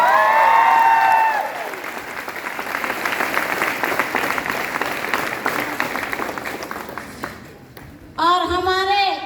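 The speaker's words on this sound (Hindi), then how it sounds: "उनके लिए भी जोरदार तालियां।" A crowd applauds loudly and continuously for several seconds, with a voice over a speaker system before and after the clapping.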